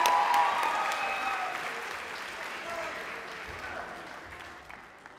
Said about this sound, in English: give another round of applause for the choir.